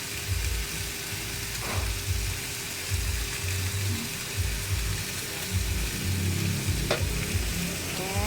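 Mung bean stew with soaked glass noodles (sotanghon) sizzling in a pan as it is stirred, a steady frying hiss broken by repeated scraping strokes of the spoon, close and continuous with no talking.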